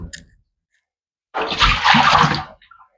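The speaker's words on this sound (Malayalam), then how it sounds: "ഈ വെള്ളം അങ്ങോട്ട് ഇതിലേക്ക് ഒഴിക്കാം കേട്ടോ" Water pours out in a single gush lasting about a second, a close splashing rush that tapers off, with quiet handling noises before and after.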